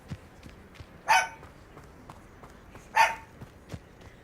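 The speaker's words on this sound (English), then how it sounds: "Must you bark?" A dog barking in the video game Hogwarts Legacy: two sharp single barks about two seconds apart, clear over a quiet background with faint footsteps.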